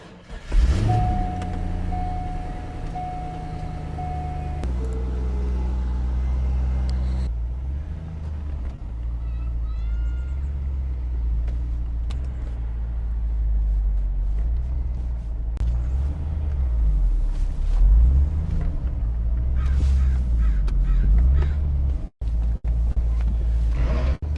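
A wrecked Chevrolet C5 Corvette pulls off on its first test drive, a low engine rumble steady and close with road noise, a brief whine early on and small knocks and clicks from inside the car.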